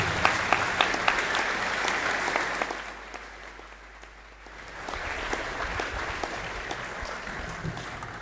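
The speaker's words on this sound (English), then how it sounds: "let's give a final round of applause to all of our winners today" Hearty, sustained clapping from a crowded college assembly hall honouring the day's winners; the applause dips briefly midway before swelling again to a full, continuous roar.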